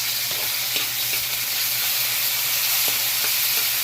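Tomatoes sauté in a hot pan for ginataang gulay, a continuous loud frying hiss with occasional soft clicks from stirring, and no talking.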